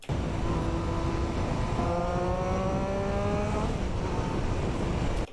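A Triumph Street Triple motorcycle engine revs high, up to 9000 RPM, and climbs through several gear changes, pitch rising and dropping in steps, loud and close throughout.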